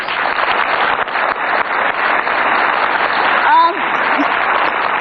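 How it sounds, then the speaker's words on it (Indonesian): Studio audience applause during an Indonesian televised political talk show, a steady broadband clatter filling the whole stretch at fairly loud level, with a brief voice rising over it near the end. "Kita kasih tepuk tangan."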